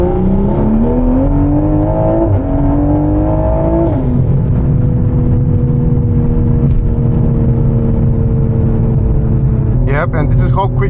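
A hybrid-turbo Toyota Supra pulls hard in third gear with traction control off. The loud engine note climbs steadily in pitch, drops briefly at about four seconds, then holds a steady roar, with a short high-pitched squeal near the end.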